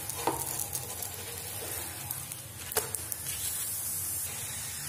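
An egg paratha fries on a hot pan, one side cooking longer than the other, giving a steady close sizzle that crackles on without pause, with a few small pops and spits along the way and no voices.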